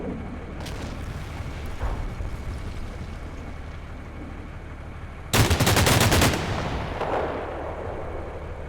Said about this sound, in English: fire some HE rounds and machine gun